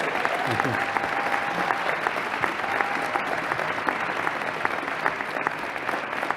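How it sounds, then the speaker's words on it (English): Audience applause at a business school celebration honoring the 2021 Dean of the Year, steady dense clapping from a crowd lasting several seconds without letup. "So one last round of applause for the 2021 Poets and Quants Dean of the Year."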